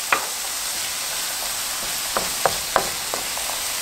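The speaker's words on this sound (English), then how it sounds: "Cooking onions in butter." Onions cooking in butter in a pan give a soft, steady sizzle, with a few sharp stirring clicks and taps near the end, close up, no talk.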